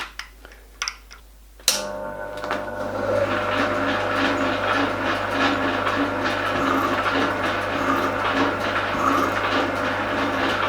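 Hand tightening of a part on a shop-made die filer in a workshop, a few light taps and clicks followed by a steady mechanical whirring and grinding that continues throughout.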